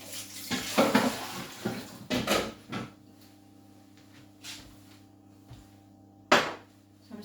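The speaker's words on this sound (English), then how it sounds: "So I'm going to put this in the sink to soak." A cooking pan is set into a kitchen sink to soak, giving a few scattered clanks and clatters with bursts of splashing water, loud at first and then quieter with a final sharp knock.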